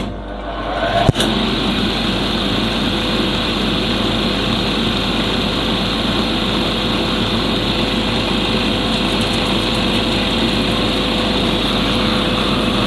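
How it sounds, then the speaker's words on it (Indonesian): A grinding and polishing machine works an opal stone that is hard to polish, its motor starting with a sharp click and then running as a steady, loud whine and hum that holds unbroken to the end. "Kita nyalakan mesin."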